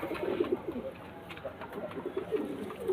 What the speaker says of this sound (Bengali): এই যে দুটো পায়রা আমি ধরে আপনাদেরকে শখ করে দিচ্ছি